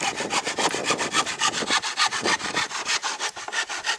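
Stanley hand saw from the 1980s cutting wood, a fast steady rhythm of rasping back-and-forth strokes, close and loud, with no talking.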